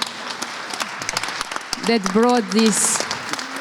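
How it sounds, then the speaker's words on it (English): Audience applause at a live stage event in Ljubljana, steady clapping throughout as a voice speaks over it near the end. "So I would really like to ask you for a huge round of applause for the ladies"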